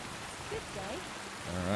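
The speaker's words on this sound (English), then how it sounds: "Gotta get out of this rain." Rain in the video game Kingdom Come Deliverance 2, a steady soft hiss of falling rain running underneath a voice talking.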